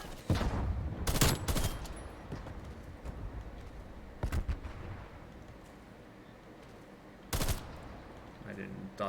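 Gunfire in Call of Duty Cold War, with sharp bursts of shots at irregular intervals, including a burst-fire AUG and a nail gun, loud against a busy game soundscape.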